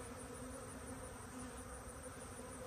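Dense, steady buzzing of many honey bees crowded on a hive frame pulled from a swarm trap, close and continuous with no talk.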